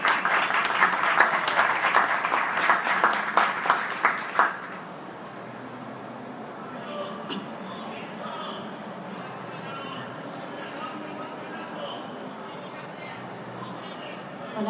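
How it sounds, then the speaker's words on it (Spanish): An audience applauds at a school presentation with quick, dense clapping for about four and a half seconds that then stops abruptly, leaving quiet room tone with faint murmurs and a voice beginning to speak. "Les pido un aplauso y les doy las gracias"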